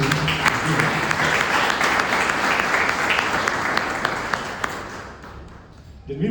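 An audience at a book presentation breaks into sustained applause, a dense wash of clapping that holds steady and then tapers off near the end, with voices mixed in.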